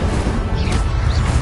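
A spell being cast in Hogwarts Legacy, Incendio fire magic, comes through as a steady loud magical whoosh and rumble with crackling texture across the whole moment, no voices.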